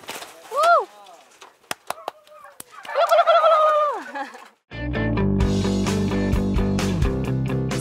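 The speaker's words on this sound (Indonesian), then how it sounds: "Suara kalkun jantan yang khas merupakan salah satu cara untuk menarik perhatian kalkun betina" A male turkey in Lampung, Indonesia gobbles loudly twice at close range with quiet gaps between calls, then music takes over for the last few seconds.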